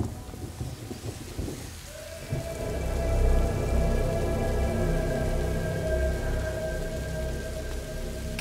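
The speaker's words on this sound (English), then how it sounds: "Lucas, Hugo, stay out of the rain." Steady rain pours down in A Plague Tale: Innocence, a dense even hiss with low rumbling beneath it, growing heavier after the first couple of seconds and holding alone without any voices.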